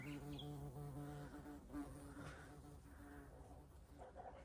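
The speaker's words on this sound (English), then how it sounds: "But the bees are even enjoying it." Bees hum around the white flowers of a tree peony outdoors, a faint steady buzzing with a wavering pitch as they move close and away.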